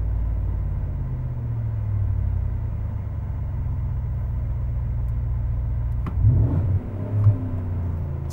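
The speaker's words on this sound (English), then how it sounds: "See, we're bouncing off of our RPM limit on the predicted engine source because the throttle is moving so fast" A car engine drones steadily nearby in a low rumble, then briefly surges and bounces twice near its RPM limit under quick throttle changes before settling again.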